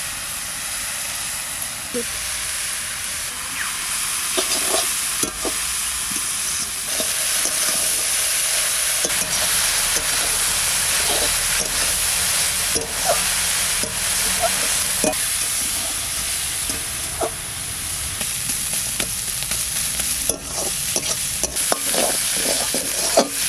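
Fresh red amaranth greens sizzle and hiss as they are stir-fried in a pan, with a continuous frying crackle and repeated scraping stirs of a spatula at an irregular rhythm, close and fairly loud.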